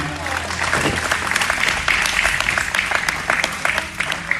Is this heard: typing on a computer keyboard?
no